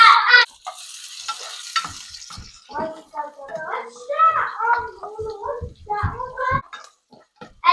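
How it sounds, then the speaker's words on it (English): An onion cooks in a pan with soft sizzling and the scrape and clatter of stirring, irregular bursts of utensil contact close by, while a person talks over it. "Add an onion."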